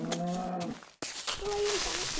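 A Minecraft cow moos twice, close and clear: a drawn-out low call, a brief silence, then a second shorter moo over faint game ambience.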